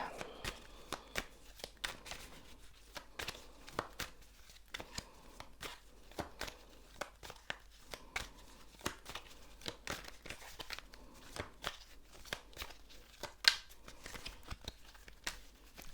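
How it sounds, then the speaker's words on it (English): Tarot cards shuffled by hand close to the microphone, a quiet, dense run of soft riffling snaps and papery flicks with irregular rhythm continuing steadily throughout. "I'm gonna shuffle more cards."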